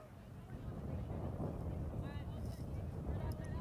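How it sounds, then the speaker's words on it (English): Gusting wind buffets the microphone outdoors at a women's ultimate frisbee game in Canberra, a loud steady rumbling roar with faint voices and whistles behind it. "It's windy, we can see it"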